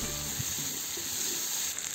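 Pork with spices sizzles steadily in hot oil in a cauldron over a campfire while a utensil stirs it, producing a constant crackling hiss close by with a few soft scraping knocks.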